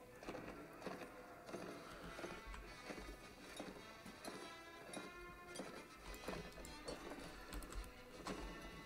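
Rhythmic drumming hoofbeats of horses galloping in a cavalry charge in a medieval battle video game, a quick steady clatter of many hooves layered with faint battle din, fairly quiet and without speech.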